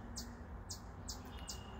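A mother robin near her nest over a back porch gives sharp, repeated chirping calls, four evenly spaced alarm notes at moderate distance over a quiet outdoor background.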